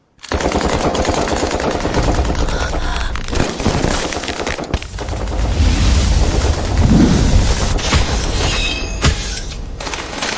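Staged gunfire in a dramatic fight scene, a sustained loud barrage of rapid shots and booming blasts rolling on for several seconds with no break, no talking.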